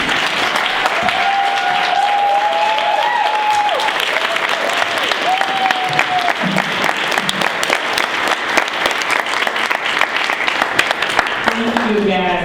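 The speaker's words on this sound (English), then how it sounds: "give her a big round of applause" A big round of applause for a closing speaker at a foundation gala, with dense, loud clapping building and continuing throughout. Voices and cheering-like tones are heard over it early on, and a speaker begins at the end.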